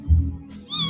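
A kitten gives a single short, high meow, close and clear, following a brief low thump, in a staged propaganda scene.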